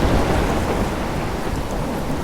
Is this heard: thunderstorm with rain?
yes